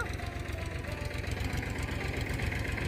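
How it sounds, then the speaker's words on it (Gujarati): A tractor engine idles and chugs steadily at close range, with a pulsing low knock running evenly throughout. "ટ્રેક્ટર આવી ગયું છે"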